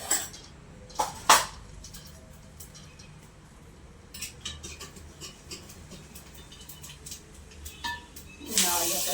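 Cumin seeds dropped into hot oil in a home kitchen pan, giving a soft sizzling hiss under faint background sound, with a couple of sharp clinks of utensils early and a louder burst of sizzle at the end.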